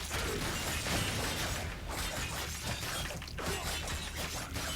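Rapid, dense clashing and slashing from repeated Skiajati sword melee attacks in Warframe, a constant barrage of sharp metallic hits and swishes with no pauses, loud and close throughout.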